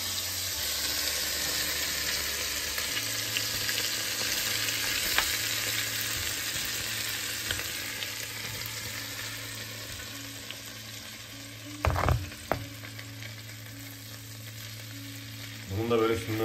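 Minci cheese sizzles and fries in hot melted butter in a pan, a steady close crackle throughout with a few brief clatters of utensils near the end.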